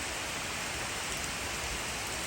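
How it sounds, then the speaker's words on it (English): Pouring rain falls outdoors in a steady, even hiss of drops that fills the whole stretch without pause, with no voices and no other sounds. "Out here in the pouring rain,"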